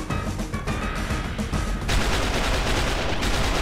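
Rapid gunfire from an arcade shooter game blasts continuously and loudly, dense bursts running together without pause and growing heavier partway through.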